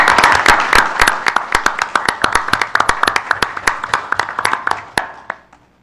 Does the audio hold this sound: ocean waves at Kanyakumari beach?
no